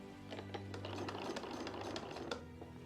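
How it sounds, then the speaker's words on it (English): A sewing machine stitching a quarter-inch seam, giving a steady close mechanical whir with fast rattling needle clatter throughout and no talking. "And let's sew it together. 1/4 of an inch seam allowance as always."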